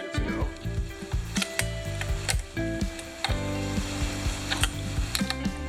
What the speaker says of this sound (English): Take your adjustable wrench and make sure that you're turning clockwise